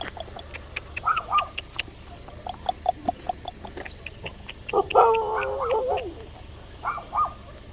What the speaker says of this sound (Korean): 강아지 개들 파티가 벌어졌네